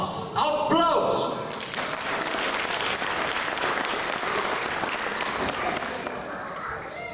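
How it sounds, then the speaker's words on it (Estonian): Loud, sustained audience applause greets a modern dance group at a festival in Valga, with a brief voice or cheer near the start before the clapping fills the room evenly. "Aplaus!"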